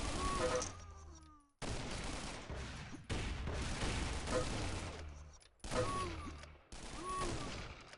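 Rifle shots in the game Cube 2: Sauerbraten: about five heavy, booming shots, each sharp crack trailing into a long ringing tail, spaced roughly a second or more apart and loud up close.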